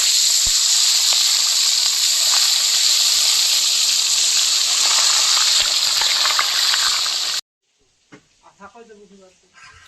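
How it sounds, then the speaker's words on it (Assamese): Goroi fish frying in hot oil, giving a loud, steady crackling sizzle that runs for about seven seconds, then cuts off abruptly before a voice speaks. "আহ বাকী আৰু মই মাছটো দি লওঁ। তেল গৰম হৈছে।"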